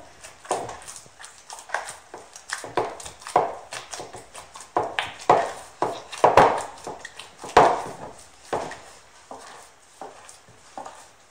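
Dough kneaded by hand, rhythmic slapping and pressing thuds repeating about once a second, close and fairly loud with no talking.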